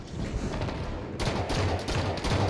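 Enemy gunfire in a team capture-the-flag video game match: a dense, continuous stretch of rapid shots and bursts, growing louder and busier midway through, heard alone with no talking.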